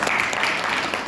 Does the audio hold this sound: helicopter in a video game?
no